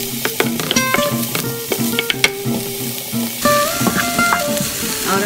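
Garlic and onion frying in a little oil in a pan, a bright crackling sizzle with clinks and scrapes of stirring, close and loud, no voices.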